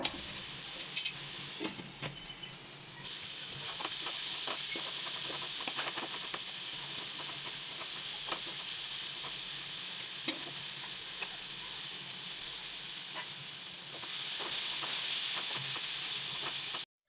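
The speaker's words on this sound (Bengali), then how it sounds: "টমেটো কুচিটা দিয়ে আমি আবার ভালোভাবে কিন্তু মশলাটা কষিয়ে নিব" Chopped tomato and spice masala frying in a pan for an egg curry, with a steady dense sizzle and hiss throughout, punctuated by scraping stir strokes, close and loud with no talking.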